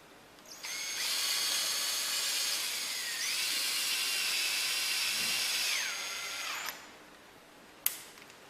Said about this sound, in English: fix the holding rail in place using window construction screws